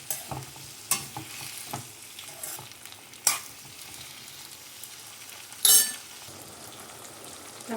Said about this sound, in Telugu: టమాటా ఈ విధంగా మొత్తం కూడా ఫ్రై అయిపోవాలన్నమాట.